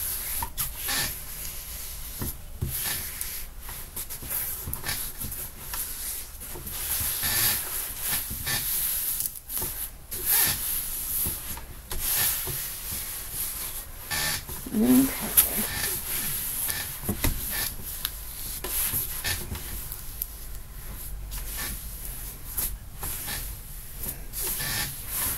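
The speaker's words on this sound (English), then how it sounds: "I'm just trying to get it smoothed out a little bit better" Steady rubbing and hissing friction on a diamond painting being smoothed out, a continuous scratchy swishing that rises and falls through the whole stretch with no talk over it.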